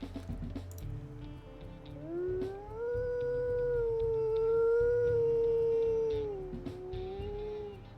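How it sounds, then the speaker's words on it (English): A wolf in the WolfQuest video game lets out a long, low, haunting howl that rises, holds steady and slowly falls, sustained and clear over a faint background. "his primary howl is pretty low and haunting."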